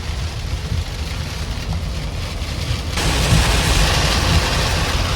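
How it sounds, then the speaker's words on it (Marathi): Heavy rain drumming on a family car driving on a road trip, a dense steady patter over low road rumble and wind that turns louder and harsher halfway through. "कुत्र्यासारखा पाऊस पडतोय."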